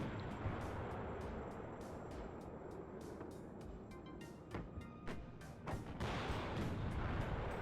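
Tank cannon fire in a tank battle video game with Challenger and M60 tanks: repeated sharp booming shots over a constant rumbling engine and battlefield bed, fairly close and loud.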